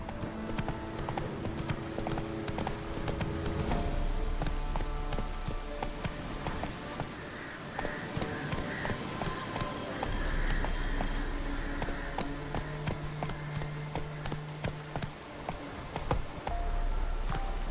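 Roach the horse gallops in The Witcher 3 with a steady run of clip-clop hoofbeats that continues throughout, layered over tonal game music.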